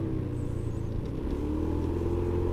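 A motorcycle engine warms up on a rainy day, a close low idling rumble with slight rhythmic pulsing, steady and moderately loud, with no talking.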